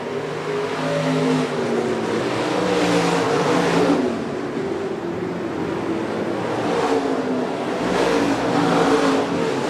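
Stock cars racing on a dirt speedway at Shelby County, engines roaring continuously as the pack circles, swelling and fading as cars pass, loud and steady with no talk.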